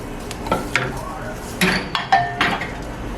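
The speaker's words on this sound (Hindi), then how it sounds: "एक सॉस पैन को मैंने चूल्हे पे रख लिया है। सबसे पहले मैं इसमें चिकन डाल दूंगी।" Chicken goes into a saucepan on a home stove for a Saudi shorba soup, bringing a few close, sharp clinks and clatters of metal pan and utensil at irregular moments.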